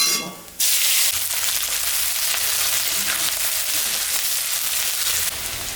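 Onion hits hot oil with a sudden loud burst of sizzling, then a steady, dense frying hiss continues close up before easing slightly near the end.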